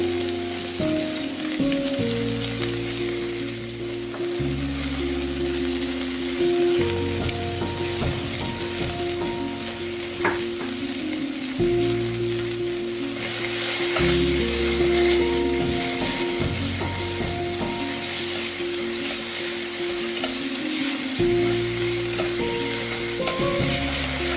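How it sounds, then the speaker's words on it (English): Minced garlic and grated ginger frying in a pot used for Japanese beef curry, a constant crackling sizzle with occasional stirring, close and steady throughout, no talking. "Add the minced garlic and grated ginger and cook for about 1 minute until fragrant."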